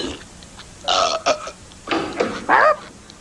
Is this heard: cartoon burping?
yes